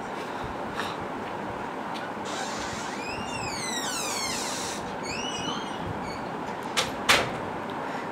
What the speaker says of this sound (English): there was some door closing